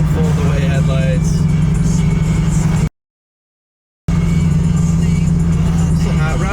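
A 1969 Chevrolet Camaro RS drives along, its engine a steady, loud, low drone heard from close by with a voice talking over it, broken by about a second of complete silence partway through.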